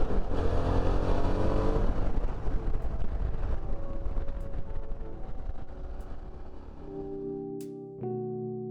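A 2023 Suzuki V-Strom 650 mid-size adventure motorcycle accelerating, its engine note rising loud and close through the gears, then easing off and settling toward a lower steady hum.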